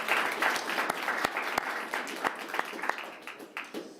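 A city council work session audience claps steadily for about four seconds, with sharp individual claps standing out from the crowd, loud and close.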